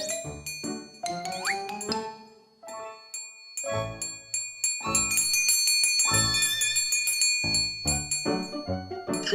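Small bells ringing and jingling in a children's cartoon, bright repeated dings and tinkles in bursts, close and clear with no talking.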